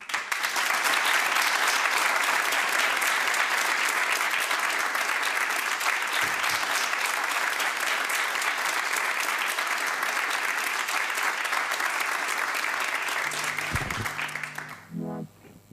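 A studio audience on a Portuguese music show gives a long, steady round of clapping for a song performance, dense and even throughout before tapering off abruptly near the end.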